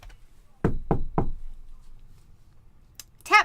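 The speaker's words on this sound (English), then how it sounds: "He reached up and knocked at the door." Three sharp, close knocks on a door in quick even succession, followed by quiet and a brief high sound near the end.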